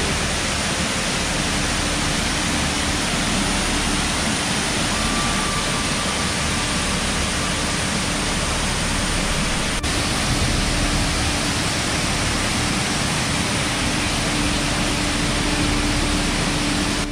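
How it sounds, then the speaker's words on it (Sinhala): Baker's Falls on the Horton Plains of Sri Lanka gives a steady, dense rushing roar of falling water, even and unbroken throughout, close and loud with no voices. "මේ ලංකාවේ ජනප්‍රිය දිය ඇලි අතරින් ප්‍රධාන දිය ඇල්ලක්"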